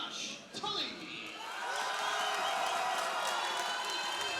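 Large arena crowd cheering and whooping as the KCFA welterweight champion Josh Tully from Independence, Missouri is introduced at a mixed martial arts event, a sustained roar swelling louder, with an announcer's voice talking over it.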